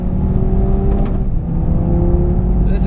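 An Audi TT RS Coupe drives on a race track, its engine a loud, steady droning hum heard from inside the car with tonal whine layered over deep rumble.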